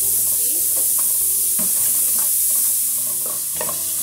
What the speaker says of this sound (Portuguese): Aí vou refogar também a cebola aqui.